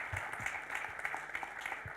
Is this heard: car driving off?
no